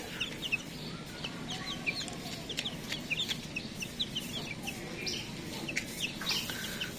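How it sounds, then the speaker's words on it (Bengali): Tiger chickens, a flock of hens, a rooster and young birds, cluck and chirp nearby in a rural yard. The calls come in short, irregular bursts over a low, steady background. "তো এটারে বলে টাইগার মুরগি বলে"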